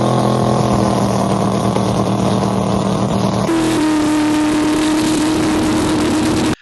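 A drag race car engine running under BigStuff Gen4 Pro Xtreme transbrake bump control, loud and close, with a steady heavy drone that changes pitch partway through and cuts off sharply at the end.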